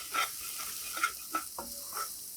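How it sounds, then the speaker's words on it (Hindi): Garlic and red chili with coriander powder frying over a low flame, a soft steady sizzle broken by several brief stirring scrapes, close and fairly quiet. "धीमी आंच पर हमें गार्लिक और रेड चिली को भून लेना"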